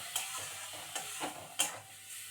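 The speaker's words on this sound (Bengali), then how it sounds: "ভালো করে কষিয়ে নিচ্ছি।" Spice paste with salt and a splash of water being sautéed in a pan: soft, steady sizzle punctuated by a few sharp scrapes of a spoon against the pan, close and fairly quiet.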